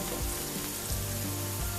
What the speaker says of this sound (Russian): Слегка его обжариваю.